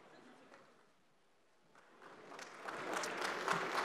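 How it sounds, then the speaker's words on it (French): An audience at an aviation decarbonization event at the Paris Air Show greets the French transport minister with applause, starting faint and swelling over the last two seconds into a fuller, moderately distant round of clapping. "merci pour ces acclamations"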